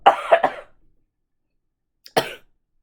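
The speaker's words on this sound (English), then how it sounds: "So sorry for the coughing." Coughing from one person, a quick burst of three close, loud coughs, a pause of about a second and a half, then one more single cough, with nothing else heard.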